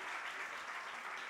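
A church congregation applauds loudly during a Sunday prayer service, many hands clapping in an even, dense burst that fills the whole moment at a fairly soft, distant level.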